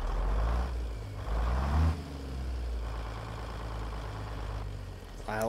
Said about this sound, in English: So you can hear that Cummins N14.